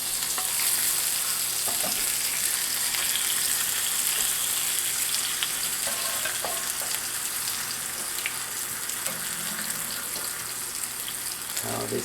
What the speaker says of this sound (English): I'm moving it around in the pan because cast iron really conducts the heat